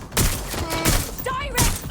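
Gunfire rattles in Watch Dogs Legion, close and loud in several quick bursts of shots with a short gap between them.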